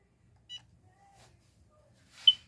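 An Easy Press heat press timer gives a short, high electronic beep at about half a second, then a louder, sharper beep near the end, with near-silence in between.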